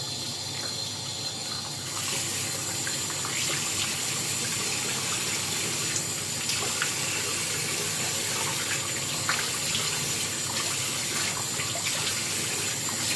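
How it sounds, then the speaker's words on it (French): Water from a running tap splashing as a face is wet during a wet shave with a Muhle R89 razor and Geo F. Trumper Eucris cream, a steady close rushing spray that starts after a short quieter moment. "Je mouille mon visage et on y va pour la deuxième passe."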